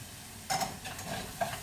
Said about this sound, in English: while these onions are cooking up here